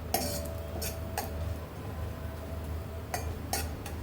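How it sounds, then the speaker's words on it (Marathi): Almond slices roasting in ghee in a pan as a spoon stirs them, giving a few sharp metallic clinks against the pan over a faint, steady background hiss. "आता याच्यामध्ये मी काप टाकते बदामाचे, थोडे खमंग व्हायला द्यायचे"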